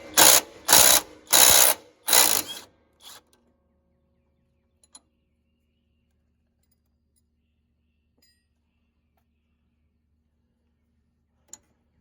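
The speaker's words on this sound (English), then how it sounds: "Come over here to the other side and do that bolt." Ratchet wrench turning a bolt on a car, several quick bursts of rapid clicking in the first three seconds, then near silence broken by a couple of faint clinks.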